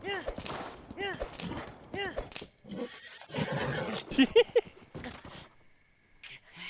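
A horse in Zelda: Breath of the Wild neighs and whinnies several times at close range, with game sound effects around it and a voice speaking briefly in between.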